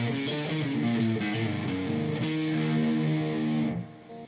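Electric guitar plays a blues turnaround, part two, at full speed, a fast run of sustained, distorted notes ringing alone before cutting off near the end.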